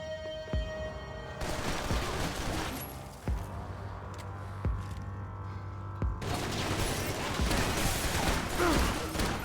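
Heavy shotgun blasts in Max Payne 3 boom out at spaced intervals, each a sharp loud crack with a trailing rumble, set against a busy game mix with bursts of scattered firing toward the end.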